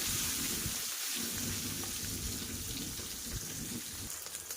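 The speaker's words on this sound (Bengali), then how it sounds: "তেলটা গরম হয়ে গেলে এবার মাছগুলোকে ভাজা করে নেব" Tengra fish frying in hot mustard oil in a wok, a continuous loud sizzle and crackle like heavy rain, steady throughout with no voices.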